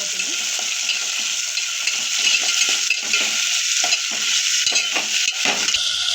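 Garlic and tomatoes stirred in a frying pan, a constant sizzle with repeated scraping and clinking of the spoon against the pan, close and steady.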